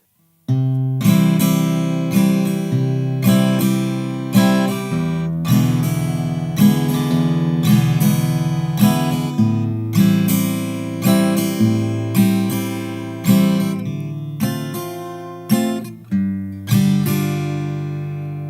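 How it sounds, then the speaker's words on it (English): An acoustic guitar plays the chorus of a song in a swinging strum pattern with thumbed bass notes between chords, steady and close, with no voices. "It's just bass note with your thumb, and then down, up, and get that swing rhythm"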